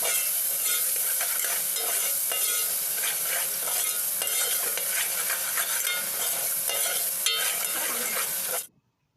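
Salt, dried coriander powder and spices being mixed into a frying vegetable rice masala, a dense, bright continuous sizzle with steady stirring, close and loud, cutting off abruptly at the end.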